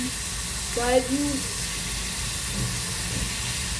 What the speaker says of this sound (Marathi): चमच्याने हलवाय हलव हलवते